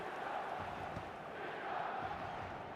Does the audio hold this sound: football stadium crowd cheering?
yes